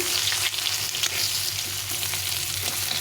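Thick-cut potato pieces fry crisp in hot oil for a fish curry, a loud, steady crackling sizzle close by with occasional stirring knocks.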